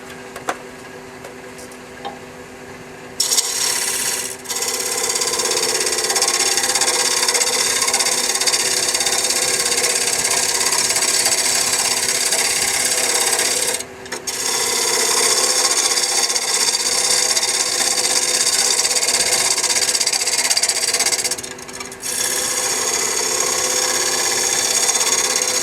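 A bowl gouge cuts a spinning wooden box blank on a lathe, giving a steady, loud scraping hiss in long sustained passes broken by a few short pauses, with the lathe's hum underneath.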